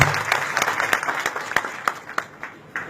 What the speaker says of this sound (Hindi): एक बार तालियां उनके लिए होनी चाहिए।